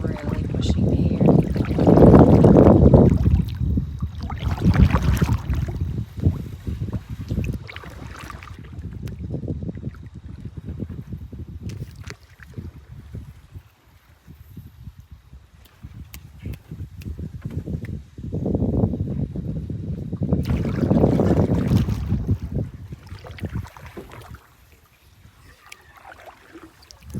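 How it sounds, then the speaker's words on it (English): Gusty wind buffets a canoe out on a lake during an October paddling trip in Massasauga, coming as loud low rumbling surges near the start and again around the twenty-second mark, easing to a softer rush between. "The wind is really pushing me here."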